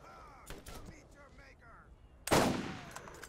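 Gunfire in Borderlands, scattered shots and mechanical clicks early on, then one loud, close blast that rings out and decays, with a voice talking underneath.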